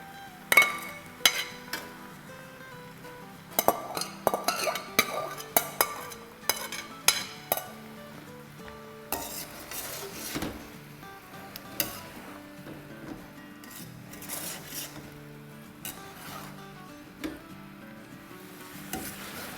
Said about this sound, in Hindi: तब इस पॉइंट पर हम अपनी चिकन भी इसमें डाल देंगे, इन दोनों का संगम कर देंगे